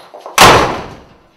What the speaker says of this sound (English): The door's closed.